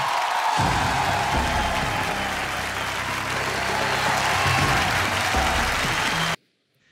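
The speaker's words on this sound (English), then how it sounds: "a round of applause for the Jaffreys" Audience applause at an Indian film awards ceremony, loud and sustained for about six seconds from a large crowd, then cutting off abruptly to silence.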